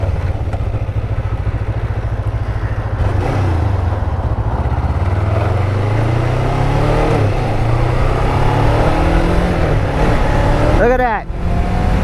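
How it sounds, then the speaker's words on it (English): A 1991 Kawasaki Ninja EX500 motorcycle revs up through its RPMs, the engine note climbing steadily and loudly over several seconds, with a brief voice near the end. "All the way up through the RPMs."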